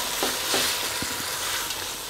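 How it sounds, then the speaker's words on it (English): Three spoons of tomato paste and half a spoon of garlic fry in a pan with a steady hiss, while a spoon mixes them with a few soft scraping knocks, close, no talking. "You mix it well and allow it to cook for another 3 to 5 minutes."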